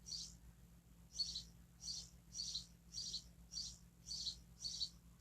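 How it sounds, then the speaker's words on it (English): A loud bird singing just outside a window, repeating about eight short bright chirps in an even rhythm, close and clear over a faint low hum. "there is a very loud bird right outside of my window"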